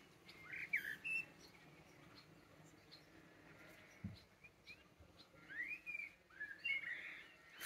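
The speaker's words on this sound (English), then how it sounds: "the birds are singing" Birds sing under trees and honeysuckle on a sunny midsummer day: faint, scattered chirps and whistled phrases come in two short clusters against a quiet outdoor background, with a soft thump in between.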